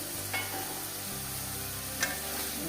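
Once the lid is lifted, food for a goat tripe dish is stirred in a frying pan: a soft, quiet sizzle with two brief scraping stirs over a low steady hum.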